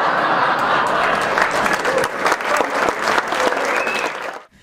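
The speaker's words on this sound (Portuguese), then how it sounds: "muitos aplausos para os atores" An audience at an Audi company year-end party applauds the actors with full, steady clapping, light laughter and murmurs mixed in, before the clapping cuts off abruptly at the end.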